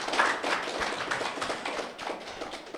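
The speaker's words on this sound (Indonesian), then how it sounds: "Tepuk tangan dong." An audience at a talk gives a short round of clapping, with crisp overlapping hand claps forming a lively, uneven patter that stays fairly close and fades slightly toward the end.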